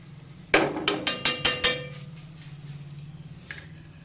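Prepared ginger is dropped into a hot pot to make ginger tea, giving a quick run of five or six sharp metallic clinks and taps, followed by a low simmering hiss and one more faint clink.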